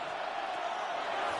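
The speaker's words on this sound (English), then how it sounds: "This crowd into it now as we get to 3rd down." Stadium crowd noise in an NFL video game broadcast, a steady, fairly faint wash of massed cheering and roar with no distinct breaks.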